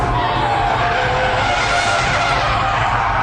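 Sports car tires skid and squeal loudly through a near spin, a continuous harsh screech over engine roar lasting the whole stretch.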